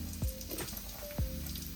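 Prawns frying in a pan for Mangalorean prawn sukka, a steady close sizzle with two brief louder bursts of spattering, no voices.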